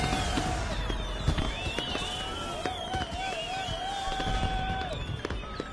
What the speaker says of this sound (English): we watch the fireworks display.